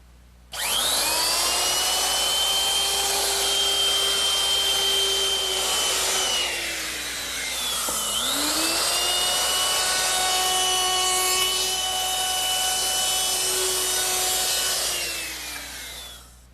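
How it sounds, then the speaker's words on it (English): A handheld router fitted with a 1/4-inch round-over bit shapes the edges of wooden pieces for an Adirondack chair, its loud, steady high-pitched whine running continuously, dipping briefly in pitch under load midway, then recovering before winding down. "I want to round over all the edges using my router with a 1/4-inch rounding over bit"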